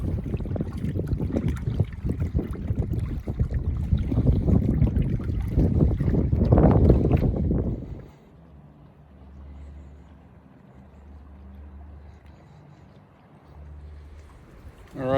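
Steady wind buffets the microphone over choppy water, loud and rushing at first, then dropping to a low rumble with lapping waves.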